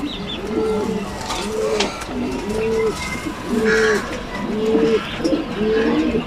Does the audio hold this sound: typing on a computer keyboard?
no